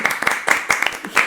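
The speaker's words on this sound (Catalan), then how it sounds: "Un aplaudiment. Per l'Anna i l'Adrià." A short burst of audience clapping for two guests named Anna and Adrià at the close of a Catalan talk show episode, sharp uneven claps swelling and fading over about a second.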